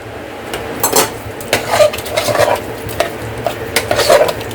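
Wheat rava payasam is mixed with jaggery syrup, the thick mixture giving soft wet squelches and a faint simmer under repeated spoon scrapes and knocks against the vessel, close and fairly loud.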